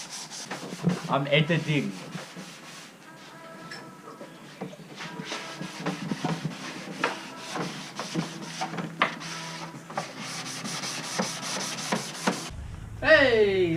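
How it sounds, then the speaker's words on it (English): Hand sanding of a Rocket Bunny car diffuser: repeated rhythmic scraping strokes run throughout, close and fairly loud, with a brief spoken remark near the start and a whistle-like squeak at the end. "I'm still sanding."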